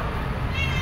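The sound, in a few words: cat meowing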